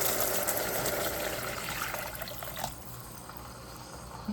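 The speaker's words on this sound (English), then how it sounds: "So I'm going to add the water." Water pours steadily into a pot of rice and green peas on the stove, a continuous close rushing, splashing stream that softens slightly toward the end.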